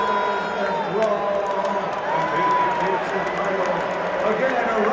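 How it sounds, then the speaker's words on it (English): A large arena crowd in Las Vegas roars and cheers for two boxers after a drawn fight, a dense, steady wall of noise with scattered whoops, while a voice talks over it. "Again, a round of applause for the two fighters who gave it all in Vegas"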